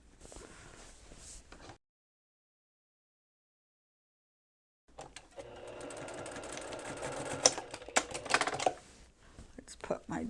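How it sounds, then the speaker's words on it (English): Sewing machine tacking down a seam on a reversible petal wrap dress, a short burst of fast stitching, then a pause, then a longer close run of rapid mechanical whirring and clicking. "And just tack it mostly in just one place, just enough to hold it. I'm going to tack the other side down."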